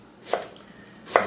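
Two sharp knife chops through an onion on a cutting board, close and crisp with a short gap between them, no talking.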